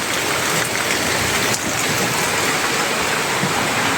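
Heavy rain falls late at night during a days-long spell of wet weather, a dense, steady hiss and roar of water that stays constant and close, with no voices.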